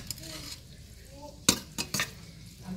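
Quiet scraping and clinking of a utensil against a bowl while mixing spices, a few sharp taps among soft stirring, with faint talk in places.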